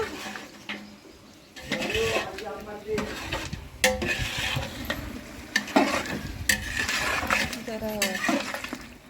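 Food being stirred and sautéed in a pan during Holi cooking makes repeated scraping strokes of a utensil against the metal over a steady sizzle, with someone talking throughout and faint birdsong behind.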